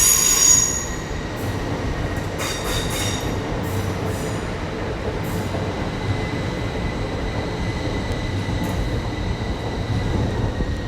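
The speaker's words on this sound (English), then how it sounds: "Okay guys, about to depart now. It'll be a Heathrow Express service to Heathrow Terminal 5." A Heathrow Express train pulls out of London Paddington, its wheels squealing steadily against the rails with a sustained metallic whine, and the rumble of rolling stock runs loud and close throughout.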